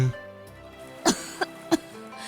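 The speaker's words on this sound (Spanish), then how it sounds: "Un acceso repentino de tos la sacudió." A woman's sudden fit of coughing in a narrated story: three short, separate coughs, the first the strongest, spaced apart against a quiet background with a faint throat-clearing quality.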